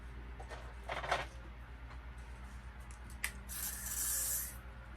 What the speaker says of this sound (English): My new thing is just spraying my edge brush